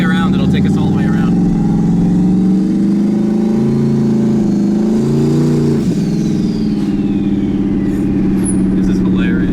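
A turbocharged LSX-swapped Chevrolet Colorado with a Borg Warner turbo revs and pulls hard, its loud engine drone rising and falling steadily up close, with turbo whistle overhead and people talking over it.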